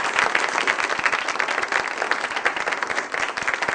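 Studio audience on the Iranian TV comedy talk show Khandevaneh applauding a guest in warm, sustained clapping that stays dense and steady throughout, close and loud with no voices on top.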